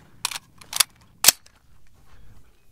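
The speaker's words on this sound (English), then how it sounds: "We're gonna shoot, I think like 5 or 6 rounds in here." A suppressed 300 Blackout AR-15 firing Fiocchi 150 grain rounds gives three sharp, close cracks in quick succession, followed by faint low rustling.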